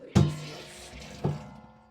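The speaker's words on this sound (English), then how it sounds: "Just draining out the tub of water." Water draining out of a tub after washing a wig, a soft continuous rush with two brief louder gurgles or splashes, close by and with no voices.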